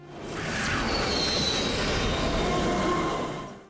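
An oncoming train rushes past in a Batman Beyond animated scene, a loud continuous rumbling roar with faint metallic squeals that swells in quickly and holds steady throughout.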